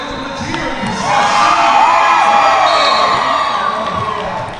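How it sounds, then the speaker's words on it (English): A large crowd at a school sports match cheers and whoops loudly, swelling into a sustained roar that fills the space before easing slightly. "can hear there's a big crowd here at track 2"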